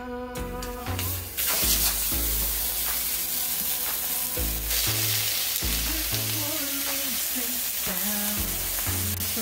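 US Angus steaks seasoned with salt and pepper sizzle steadily in a preheated electric skillet, a continuous frying hiss under loud background music with a thumping bass line.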